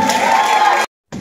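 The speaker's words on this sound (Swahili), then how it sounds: "Makofi kote." School audience at St. Georges breaking into a short burst of loud clapping and cheering, filling most of the moment before cutting off abruptly, then resuming faintly.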